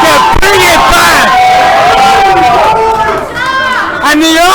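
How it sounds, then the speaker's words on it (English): Excited arcade crowd at a Killer Queen tournament, loud whoops, shouts and cheers overlapping continuously with sharp yells rising and falling across the room, a dense close wall of voices throughout. "the arcade is cheering for Honeymaker as the now established underdogs"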